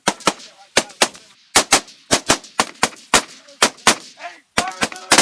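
Rifle and machine gun fire during a U.S. Marine squad attack on a range, loud close sharp shots in quick uneven bursts and pairs, continuing throughout with no pause.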